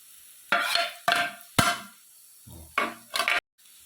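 Tomatoes tossed into hot masala for a vegetable beef curry are stirred in five quick, close scraping strokes, each with a short sizzling hiss, separated by brief pauses, and no voices.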